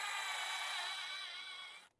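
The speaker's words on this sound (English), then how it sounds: "Just the drill bit walking all over God's green earth." Drill bit grinding into a piece of scrap while it skids across the surface, a short, bright, rasping whir lasting about two seconds before it stops abruptly.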